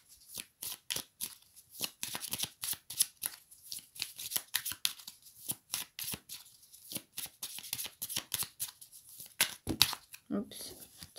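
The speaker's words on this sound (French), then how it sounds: "Oups, trop de cartes sont tombées." Playing cards are shuffled and riffled in rapid crisp bursts, close and steady, with a few cards spilling and dropping, faint speech in between.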